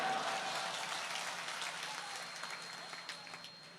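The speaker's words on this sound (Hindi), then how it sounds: "तो ताली तो बजाओ" An audience at an open-air poetry gathering on a middle school ground in Harda claps, the crowded applause gradually thinning and fading over a few seconds.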